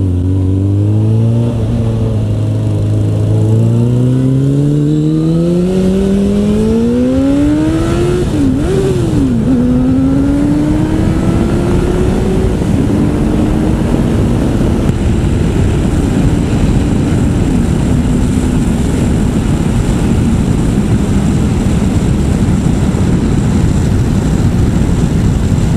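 Suzuki Bandit 650 S four-cylinder motorcycle engine under riding, loud and close, revving up smoothly through a long rising whine, a brief dip near the middle, then holding a steady high drone with strong wind rush.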